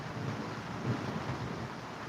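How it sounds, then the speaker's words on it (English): Rain with a low thunder rumble outside, a steady broadband hiss with faint deep rolling underneath, distant and fairly quiet, with no speech. "So now I'm struggling on the weather, but I love the rain."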